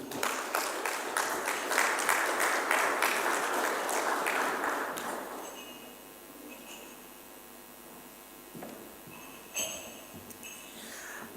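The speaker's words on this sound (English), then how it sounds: "Another round of applause for Mr. Frank Oti" Applause from a conference audience, dense clapping for the first five seconds before thinning into scattered claps and a quieter hall.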